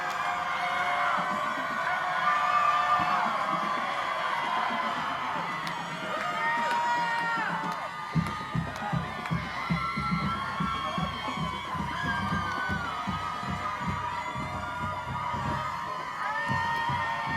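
A stadium crowd at a high school football gameday cheers and whoops for Ravenwood High's head coach, sustained shouting with a thumping rhythmic beat joining partway through.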